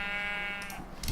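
A single short, buzzy sheep bleat in a video game, with a nasal, game-like tone, fading out into faint background noise.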